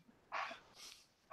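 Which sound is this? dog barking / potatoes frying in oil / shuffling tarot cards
dog barking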